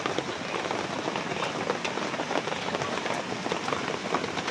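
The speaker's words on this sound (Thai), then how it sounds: "ฝนตกตลอดมันเย็น" Heavy storm rain pours steadily and close on surfaces, a dense, unbroken hiss with scattered drop impacts and no voices.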